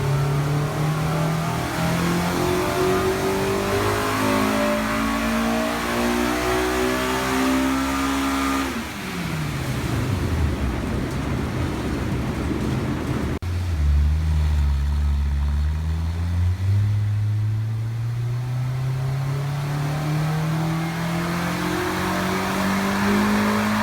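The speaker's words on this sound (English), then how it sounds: "I think it might have been just baseline dyno pulls." Mugen S2000 engine revving on a dyno during baseline pulls, loud rising engine notes climbing through the gears, a drop back, then another long climbing pull, close and without talk.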